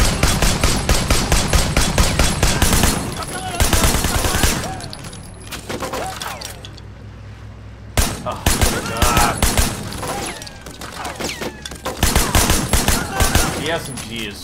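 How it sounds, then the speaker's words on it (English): SMG fire in the Sleeping Dogs video game rattles out in loud rapid bursts, several long fusillades broken by short pauses, with other gunfire and game effects mixed in. "The SMG is so terrible."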